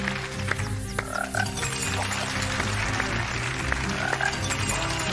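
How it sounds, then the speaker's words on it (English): A frog chorus croaking effect from a TV game show plays as a loud, dense wall of overlapping croaks and buzzing tones, steady and continuous, with no voices. "we do not want another frog chorus"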